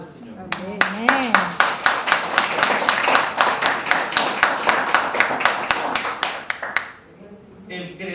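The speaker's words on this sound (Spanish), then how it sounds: "Un aplauso al Señor." Church congregation clapping in rhythm during a worship service, steady loud claps in an even beat for about six seconds under a sung or spoken voice at the start, then fading out.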